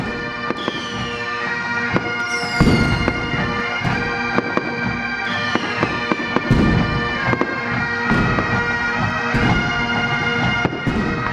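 Fireworks burst at night during Normandy commemoration celebrations: repeated loud booms and crackling explosions overlap in a dense, continuous barrage, with sharp cracks and rumbling echoes throughout.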